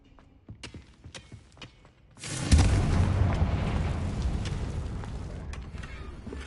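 Confringo blasting spell in the Hogwarts Legacy video game: a deep booming explosion bursts out after a few light footsteps and lingers as a loud rumbling roar that slowly fades.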